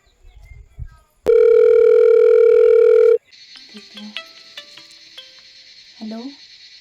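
A telephone tone sounds once, loud and sustained for about two seconds, followed by faint clicks and a brief voice.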